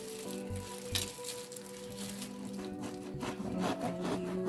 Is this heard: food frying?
yes